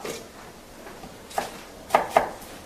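A knife chops fruit and onion on a cutting board, a few sharp taps spaced irregularly, fairly close and quiet, with no voices.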